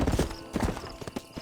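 A horse gallops in the Western video game Red Dead Redemption, with rapid, heavy hoofbeats thudding close and loud in a brief rolling burst.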